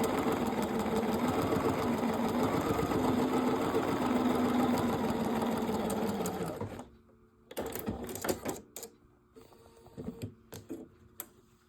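A Bernina sewing machine stitches straight lines on a quilt piece, a steady mechanical whir for about seven seconds before it stops, followed by softer intermittent clicks and short bursts of stitching.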